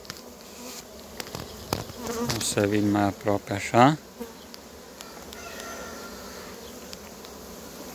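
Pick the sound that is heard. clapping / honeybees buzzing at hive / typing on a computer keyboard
honeybees buzzing at hive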